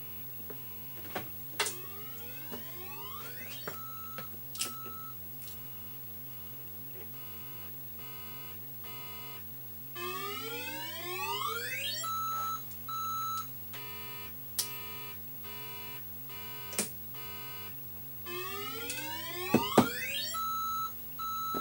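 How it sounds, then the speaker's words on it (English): A 1983 Atari Crystal Castles arcade circuit board under repair emits electronic tones at power-up: sharp high beeps followed by bursts of rising sweeping chirps, repeating several times over a steady low hum, fairly quiet and close. "you hear what it's doing. It's doing 2 high beeps right off the bat."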